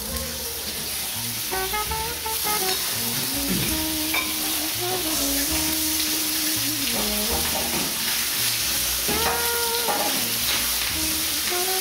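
Chicken pieces laid skin side down in hot olive oil, giving a steady, close sizzle and crackle of frying that runs without a break, with faint tonal sounds drifting in over it.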